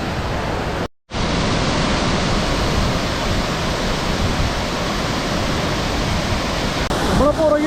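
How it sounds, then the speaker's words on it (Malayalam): Punnayar waterfall in Idukki, Kerala roars as a loud, unbroken rush of water, with a brief dropout near the start and faint voices in the background near the end. "കിട്ടില്ല വെള്ളച്ചാട്ടമാണ്"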